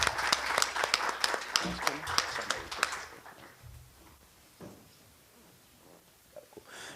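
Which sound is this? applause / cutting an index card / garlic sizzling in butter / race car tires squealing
applause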